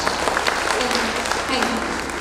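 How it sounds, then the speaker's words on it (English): An audience at a disability association award ceremony applauds in a steady, dense round of clapping with a voice faintly present beneath it. "So can we give a round of applause for her?"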